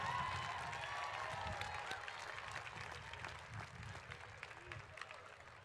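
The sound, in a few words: graduates applauding faculty and staff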